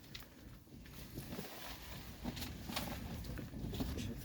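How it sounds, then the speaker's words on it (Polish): Heavy rain beginning to fall outdoors by a garden polytunnel in the evening, a dense steady patter of drops with a few sharper close hits, continuous and moderately loud throughout with no voices. "w tym momencie po 19 jest już deszcz. Zaczęło mocno padać"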